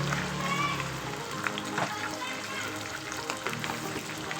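Curry leaves and mint leaves fry in a pan for crab curry, giving a steady close sizzle with light stirring throughout.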